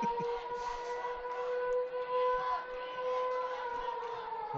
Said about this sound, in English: More inclement weather. Tornado sirens.